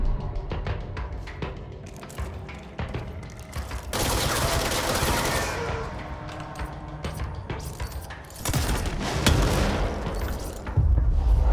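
Enemies in the game Control unleash dense gunfire and projectile barrages, loud bursts and booms arriving in clustered volleys with sharp impacts between them.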